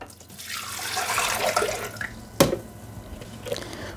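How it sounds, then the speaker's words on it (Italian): Water is poured into a Thermomix mixing bowl, a steady splashing stream that builds over the first two seconds, broken by a sharp knock and then fainter dribbles, close and alone with no talk. "Iniziamo la ricetta mettendo all'interno del boccale l'acqua"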